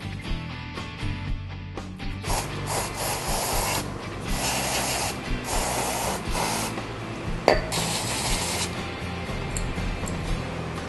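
Contact cleaner hisses from an aerosol can onto an air filter in several bursts of close spraying, broken by short pauses and a sharp knock partway through, with no speech.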